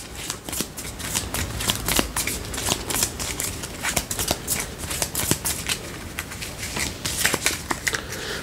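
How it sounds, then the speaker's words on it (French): Cards from the Slay the Spire board game are riffled and reshuffled in a dense, continuous flurry of crisp snapping and rustling, close up and steady for several seconds with no voices. "Donc là, on remélange tout, on a notre nouvelle main."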